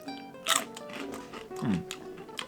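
A bite into crunchy homemade sun-dried tomatoes, giving a few sharp close crunches and soft chewing sounds, fairly quiet with no talk.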